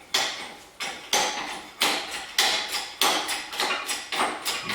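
Pittsburgh 2-ton hoist from Harbor Freight worked like a bottle jack in a farm shop, giving eight steady, evenly spaced pumping strokes, each a sharp metallic attack that trails off, close and fairly loud with no talk.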